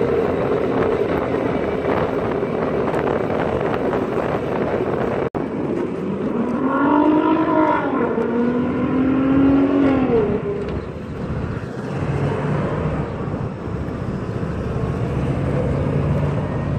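A motorcycle rides through the night streets of Norristown, Pennsylvania, its engine droning steadily under heavy wind rush on the microphone, with the pitch rising and falling as the bike accelerates midway.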